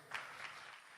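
Audience applause at a Georgian televised song contest, a short burst of clapping rising near the start, fading slightly and swelling again briefly, moderately loud and steady without voices over it.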